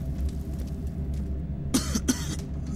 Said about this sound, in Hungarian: Miért köhögtem?